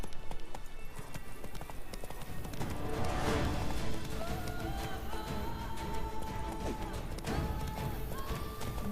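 Roach the horse galloping in The Witcher 3, a rapid, continuous drumming of hooves up close with rustling and scattered ambient game sounds layered over it.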